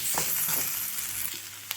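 Tomatoes being mashed and stirred in a frying pan while cooking a mackerel curry, giving soft scraping stirs and a faint sizzle, with a sharper tap near the end and no talking.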